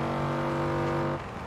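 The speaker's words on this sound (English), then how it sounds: "I love the engine note." A Porsche Carrera's engine in Forza Horizon 4 holds a steady, loud, harmonic-rich note that drops off slightly near the end of the short stretch, with no talking over it.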